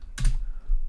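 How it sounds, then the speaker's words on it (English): A short burst of typing on a computer keyboard while a command is entered, a quick cluster of soft close key clicks, then near silence. "I'm going to type"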